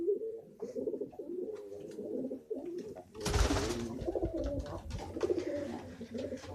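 Pigeons coo repeatedly in a loft while being fed, a low throaty rhythm continuing throughout, with a burst of wing flapping or scuffling midway.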